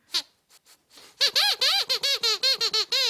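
Sweep, a squeaking dog puppet from a children's show, lets out a quick burst of high, rapid squeaks, first a few scattered chirps then a loud run of close, repeated squeals.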